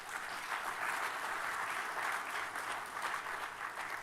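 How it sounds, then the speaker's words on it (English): An audience at a Brevard County Sheriff's Office awards ceremony applauds steadily, a dense, even wash of clapping that carries at a moderate distance without any break. "Please give them a round of applause."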